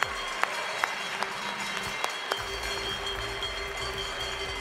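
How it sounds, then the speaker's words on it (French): Crowd applauding at a cattle show ring, a steady wash of many hands clapping at a distance, with a few sharper claps standing out at the start. "Applaudissez-les encore très très fort."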